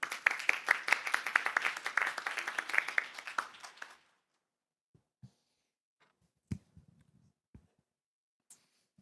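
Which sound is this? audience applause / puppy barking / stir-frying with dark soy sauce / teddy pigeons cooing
audience applause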